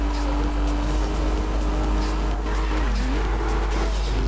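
A car drifts in the racing video game Need for Speed Rivals, with a steady loud engine drone, a wavering whine that shifts pitch, and tire noise running throughout.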